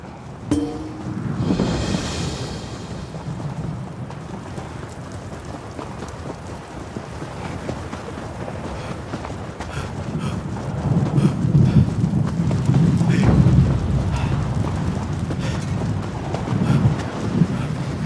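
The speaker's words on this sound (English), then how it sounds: "The storm rages, but here I am, out of the rain." A thunderstorm rages in the video game Elder Scrolls Online, with a rolling thunder rumble near the start, then steady heavy rain and gusting wind that swell louder toward the end.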